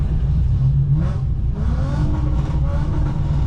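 Cars idle and rev on a drift event grid while waiting to launch, one of them being a Ford Mustang drift car; a low, steady engine rumble with a few rising revs and popping two-step bursts, moderately close, no talk.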